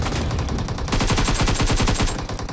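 Sustained automatic machine gun fire in Battlegrounds Mobile India, a rapid unbroken stream of loud close shots over steady background noise, with the burst tightening into an even rhythm partway through.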